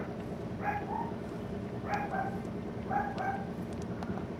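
A dog barks indoors in three short, muffled yipping bursts about a second apart, heard at a moderate distance over a steady background hum.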